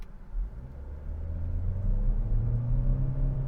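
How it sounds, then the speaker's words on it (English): A 2026 GMC Terrain Denali pulls away hard in first gear, its engine drone rising into a steady, loud low rumble with a faint pulsing wobble from the front wheels, heard from inside the cabin. "I get like a wobble in the front wheels under heavier acceleration."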